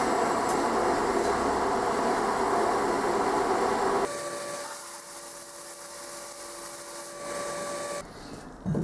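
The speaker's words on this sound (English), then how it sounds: "And after the bandsaw, it'll be time for the belt sander." A belt sander grinds down a freshly cast metal part, its steady abrasive roar and machine whine running loud and unbroken, shifting in pitch partway through as the casting is pressed and repositioned against the belt.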